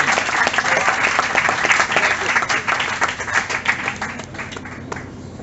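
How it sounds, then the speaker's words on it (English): Audience applause after a speaker's thank-you, a dense burst of many hands clapping, loud and sustained, easing slightly toward the end. "A round of applause"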